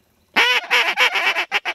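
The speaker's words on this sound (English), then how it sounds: "There are a bunch of green wings." Green-winged teal ducks on a teal hunt, a short burst of loud, nasal honking and quacking calls in quick rhythmic pulses, close and clear with no talk over them.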